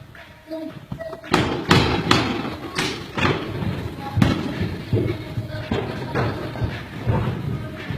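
A dumbbell thudding during exercise indoors, a run of heavy sharp impacts repeating irregularly, with voices talking around them.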